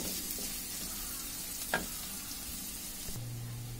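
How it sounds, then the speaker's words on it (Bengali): Onion and garlic frying in a pan for dal: a quiet, even sizzle close by, with one short scrape of stirring near the middle and a faint low hum coming in toward the end, with no voices. "একটু লাল লাল করে ভেজে নেব পেঁয়াজ আর রসুনগুলোকে।"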